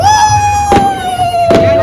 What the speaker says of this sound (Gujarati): પૂરા એક સાઈડ ફટાકડા ફૂટશે ને હા એક ગયું.